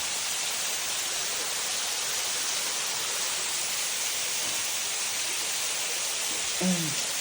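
Vantawng waterfall roars as a steady, broad rushing wash of falling water, constant and enveloping, with a short voice near the end.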